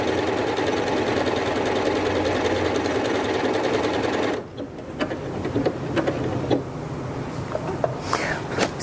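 A Janome MC8200 sewing and quilting machine runs a decorative stitch with a steady, fast mechanical whirring and clatter. About halfway through it stops abruptly, followed by quieter clicks and handling noises.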